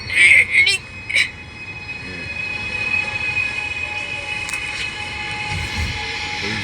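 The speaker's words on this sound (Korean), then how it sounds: "마지막 열차도 갑니다." A Gwangju subway train pulls away, with metallic wheel squeal and a sustained rolling rumble that builds steadily, preceded by a few brief sharp squeals near the start.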